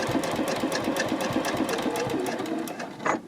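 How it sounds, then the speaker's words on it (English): A sewing machine topstitches a boxy dopp or makeup bag at a stitch length of 3.4, running as a steady, close, rapid mechanical chatter that slows and stops near the end, with no voices. "Now I will sew right up to that pin"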